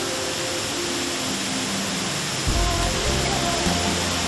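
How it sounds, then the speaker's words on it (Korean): A continuous rush of falling water roars steadily, heard from a cave behind a waterfall in Guizhou, China, with a deeper, heavier surge joining partway through, loud and close. "조금만 걸어 들어가면 주렴처럼 떨어지는 폭포수와 만난다."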